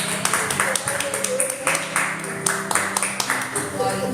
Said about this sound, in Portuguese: Receba o irmão Paulo com palmas.